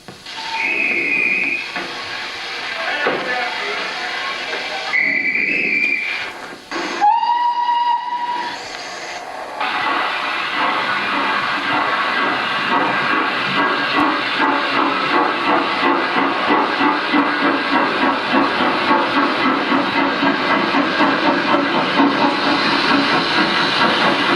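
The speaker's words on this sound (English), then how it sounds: "Soon we'll see the starting signal pulled off and hear the sounds of the train" A steam train on the Bridport line departs from a station, opening with sharp whistle blasts and hissing steam. A steady, rhythmic chuffing then builds and holds loud and close.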